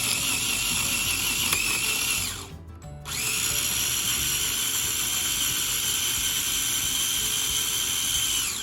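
Food grinder or processor running steadily, chopping a mix of ginger, jalapeno, coriander and lemon juice; a loud whirring motor drone that dips briefly near the start, then resumes and runs on without speech.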